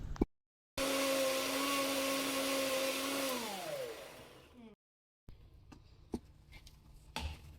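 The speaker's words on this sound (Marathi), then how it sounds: "आता सगळं हे मिक्सरच्या भांड्यामध्ये काढून घेऊ आणि मिक्सरला फिरवून घेऊ." A kitchen mixer grinder purees onion, cashew, almond and tomato in its jar, a loud whirring motor with a steady pitched hum that slows and winds down, followed by lid clatter and quieter handling sounds.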